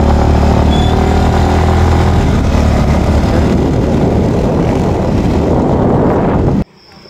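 Motorcycle ride to a barangay fiesta, the engine droning loud and steady with heavy wind buffeting the microphone throughout, then cutting off abruptly near the end.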